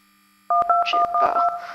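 Cell phone keypad tones in the video game Plane Accident beep as a number is dialed, a quick run of short steady two-tone presses after a brief silence.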